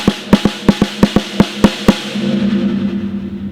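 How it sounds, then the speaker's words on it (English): A drum-set snare drum with its metal snare wires engaged gives nine crisp, buzzy hits in a quick steady rhythm, loud and close, and a rattling sizzle lingers after the last stroke. "But when you turn the snares on, it sounds like this."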